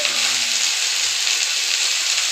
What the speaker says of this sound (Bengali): এখন আমি সিমগুলো দিয়ে দিচ্ছি